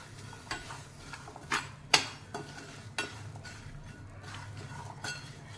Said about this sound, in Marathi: थोडे थोडे दाणे असे मी याच्यामध्ये भाजून घेणार आहे म्हणजे ते व्यवस्थित भाजले जातील